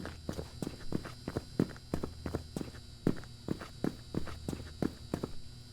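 Steady footsteps in the Backrooms-themed horror game, a fast even run of soft thuds repeating for several seconds over a faint electrical hum, no speech.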